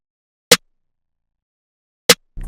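A trap-beat snare sample hits twice, short and punchy, about a second and a half apart, with silence between the hits and a low bass tone starting right after the second.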